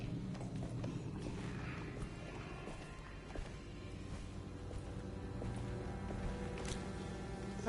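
Busy soundscape from the 2024 game Alone in the Dark with steady low rumble and scattered clatter, including a faint clip-clop of horse hooves mixed into the din.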